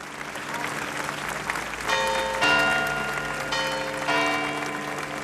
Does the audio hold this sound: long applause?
yes